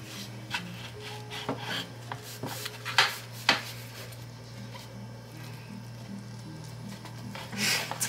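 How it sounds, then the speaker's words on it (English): Spatulas scraping and prying a gluten-free pizza off a pan, with scattered scrapes and sharp clacks at irregular intervals over a low steady hum; quiet, with no talking. "I had a bit of trouble taking the pizza off the pan, so my boyfriend brought in a second spatula to help me out"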